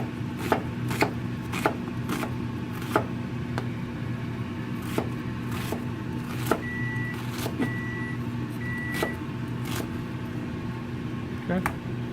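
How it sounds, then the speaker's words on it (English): An onion chopped on a board for a sausage pasta bake, with a series of sharp knife taps spaced unevenly through the stretch under a constant low background hum, and people talking nearby. "Cut the onion."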